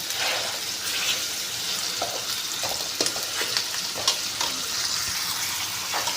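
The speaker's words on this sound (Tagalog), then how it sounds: "ginigisa na natin to. Gisa na muna natin para mawala yung lansa." Tomatoes and aromatics sautéing in a pan for salmon head sinigang, a steady close sizzle with scattered stirring clicks and scrapes throughout.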